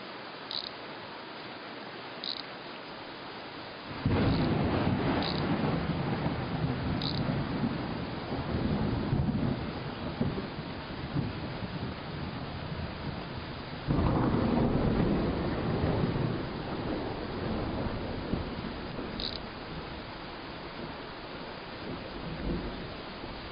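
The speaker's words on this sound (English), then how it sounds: "It's a bitter cold rain, too." Steady cold rain falls outdoors near a garage scrap pile, with low rumbling surges that fit distant thunder swelling twice; a continuous wash of broadband noise, fairly loud, with no voices.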